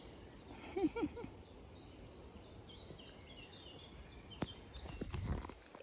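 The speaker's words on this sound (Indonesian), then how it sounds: "tuh kamu dengar suara burung" Birds call through a forest on a footpath trek near Bandung, with repeated chirps high over a steady ambient hiss, joined by a few footsteps on the trail.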